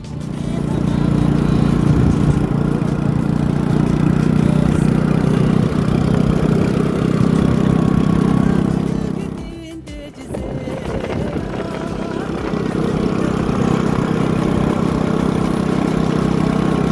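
Motorbike engine running steadily while riding along a road, a loud droning hum that dips briefly near the middle before resuming, with no one talking.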